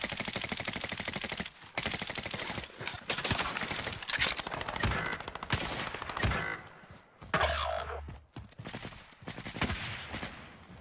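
Finn LMG light machine gun fire in a video game rattles in loud sustained automatic bursts, with short pauses and scattered other gunshots between volleys.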